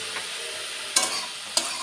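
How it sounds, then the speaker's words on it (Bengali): Spinach cooking down in a wok gives a continuous close sizzle, broken by two sharp scraping stirs of the spatula against the pan. "এ পর্যায়ে আমি খুব ভালোভাবে নেড়ে করে নিব"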